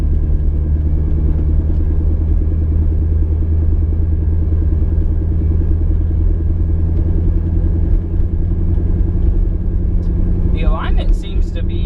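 A car climbs a hill in second gear with a loud, steady, low engine rumble and road drone throughout. A voice is heard briefly near the end.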